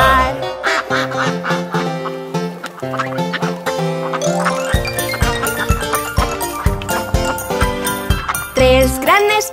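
Bright quacking duck sounds bounce through a cheerful children's nursery song about five big ducks, repeating loudly over a busy, bouncy musical backing with chimes.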